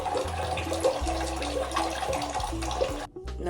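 A bathroom tap runs while someone rinses their mouth, a continuous splashing stream with gurgles and small knocks, cut off briefly near the end before resuming.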